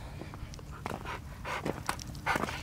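A very large dog pants quietly nearby in quick, breathy bursts, with a faint low background hum and no talking.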